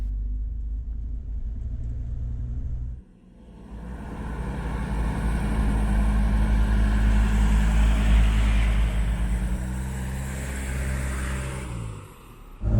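Classic Mercedes T1 van with a five-cylinder engine driving on German roads near Stuttgart: a steady, loud low-pitched engine drone with road rumble, a brief dip around three seconds, then sustained cruising hum to the end.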